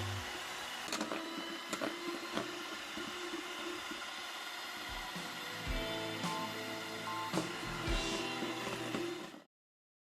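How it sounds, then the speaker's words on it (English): An electric mixer whirs continuously on high speed, beating egg whites with sugar for a roll cake, a steady motor drone with occasional clatters of the beaters against the bowl before cutting off abruptly. "Mix the separated egg whites with 35 grams of sugar and beat them on high speed"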